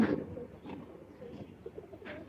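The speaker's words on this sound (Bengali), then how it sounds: "আজকে নিয়ে আসলাম ঝাঁক কবুতর।" Soft, low coos of Jhak male pigeons murmur quietly in a short stretch, a few muffled throaty calls close by with faint background noise.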